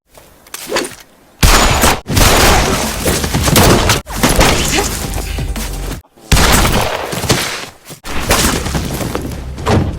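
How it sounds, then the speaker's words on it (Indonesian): A movie gunfight at a surrounded villa: dense, loud volleys of gunfire and impacts roar in long bursts, broken by brief silent cuts, with shattering and thuds mixed in. "Baku tembak tak terhindarkan."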